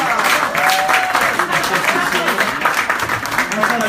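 Audience applause at a nomadic festival in Montréal after a poetry reading, a steady dense clapping wash throughout with whistle-like tones and voices mixed in.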